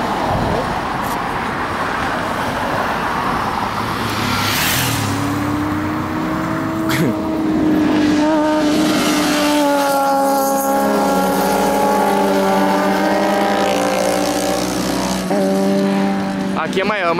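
Loud motorcycle engines roar past through an S-curve in Amparo, São Paulo, rising and falling in pitch as the bikes accelerate and downshift, with voices talking over the racing noise.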